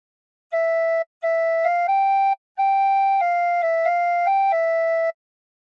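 A tin whistle plays a short phrase of Incy Wincy Spider alone, a series of bright, clear sustained notes in two groups with brief gaps, close and fairly loud.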